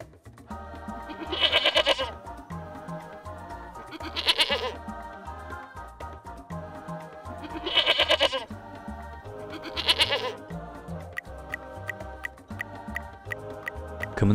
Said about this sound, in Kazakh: Иә, бұл ешкі